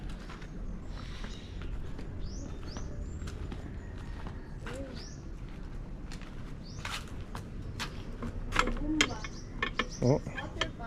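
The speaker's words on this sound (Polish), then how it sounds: "Water pump. So there's a deep well" A water pump at a deep well makes scattered mechanical clicks and creaks over a steady outdoor hum, with birds chirping nearby and faint voices in the background.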